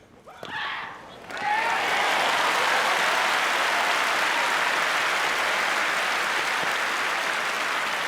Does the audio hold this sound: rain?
no